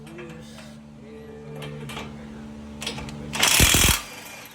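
A loud burst of power-tool rattling near the end, after quieter mechanical clatter, as the steering knuckle bolts on an S550 Mustang are loosened close up.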